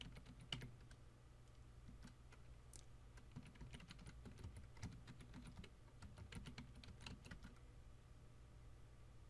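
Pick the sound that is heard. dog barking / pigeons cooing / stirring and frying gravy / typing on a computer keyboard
typing on a computer keyboard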